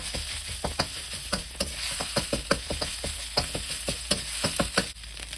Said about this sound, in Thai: รากผักชีกระเทียมพริกไทยที่โขลกเอาไว้นะคะลงไปก็คือสามเกลือนั่นแหละ แล้วก็ผัดให้หอมเลยนะคะ